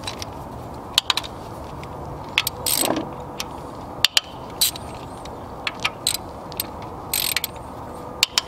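A ratchet wrench works the 10 mm coil pack bolts on a Lexus GS/IS V6 engine. It makes short bursts of crisp clicking separated by sharp metallic taps and small clunks, close up and fairly quiet.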